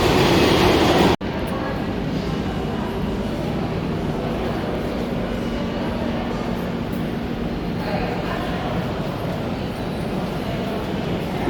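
A New York subway train fills the station with a loud, steady rumble and roar after an abrupt start, sustained throughout with a faint mechanical whine running under it.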